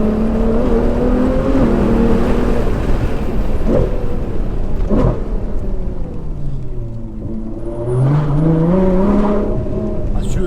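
A Ferrari 812 GTS convertible with a V12 engine drones loudly throughout, its pitch rising and falling as it revs. The engine sits close and steady with no talk over it.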